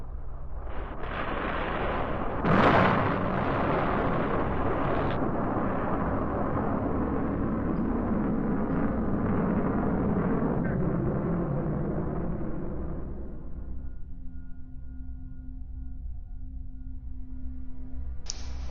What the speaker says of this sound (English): The escape rocket takes the capsule away from the booster.